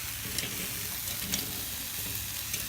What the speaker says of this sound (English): We're just going to let these flame up a little bit. Get some nice sear on them.